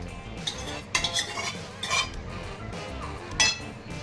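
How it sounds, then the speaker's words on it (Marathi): Cooked mashed peas for ragda being mixed in a pan with a spoon, giving soft stirring scrapes and a few sharp metal clinks at irregular intervals, close and moderately loud with no talk. "हा वाटाणा आता आपण ह्याच्यामध्ये मिक्स करायचा आहे"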